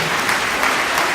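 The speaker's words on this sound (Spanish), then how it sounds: "Denle un aplauso a la palabra de Dios." A congregation in a church bursts into steady, loud applause, a dense, even wash of many hands clapping with no break and no voices.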